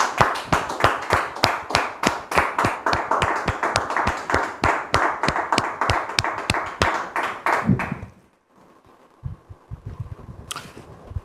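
Audience clapping in steady rhythmic unison to welcome Muriel and Arnaud, loud and sustained for about eight seconds, then stopping abruptly into near-silence with a few faint knocks.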